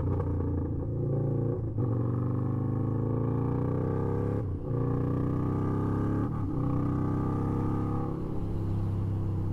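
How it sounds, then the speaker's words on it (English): A Harley-Davidson V-Rod motorcycle engine rumbles loudly and steadily up close, broken by about three or four sharp backfire pops spaced a couple of seconds apart. "Oh, listen to the backfires."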